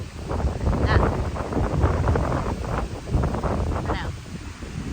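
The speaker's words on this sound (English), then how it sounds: "Like, the hurricane's moved on, but the wind still isn't done." Strong gusty wind lingering after Hurricane Beryl buffets the microphone outdoors, a loud continuous rushing roar with surging gusts and no talk.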